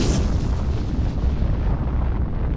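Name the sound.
atomic bomb explosions from Fallout 4 video game trailer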